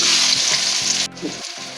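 Onions frying in a pan for a chicken and cabbage momo filling, a loud continuous sizzle with brief stirring scrapes and a short dip near the end, no voices.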